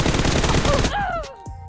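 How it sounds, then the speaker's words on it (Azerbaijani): Rapid automatic gunfire bursts loud and close in PUBG Mobile, a dense string of shots that cuts off abruptly, followed by a short electronic tone and a faint voice. "Bu qədər güllə gidizdirdim, ölmədi."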